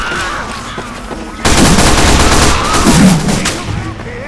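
SMG fire in Team Fortress 2 erupts as loud rapid bursts of automatic shots that start abruptly and rattle on for about three seconds, with a voice faintly under the clatter.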